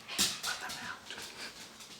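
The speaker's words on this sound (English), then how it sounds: "as we hear the dogs run through the house" Dogs moving through a house, with brief scrabbling and panting bursts, a faint whimper-like tone, soft and a little distant, over quiet room noise.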